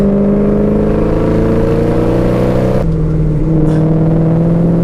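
A 900 wheel-horsepower Ford GT500 on a winding mountain road, the Tail of the Dragon, drones loud and close with a steady engine tone that shifts pitch abruptly partway through as it works through the gears.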